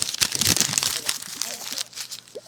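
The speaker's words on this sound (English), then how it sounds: "I'm crumpling it up." A paper run sheet is crumpled by hand close up, giving dense crackling, crinkling rustles that fade into scattered crunches, with no talking.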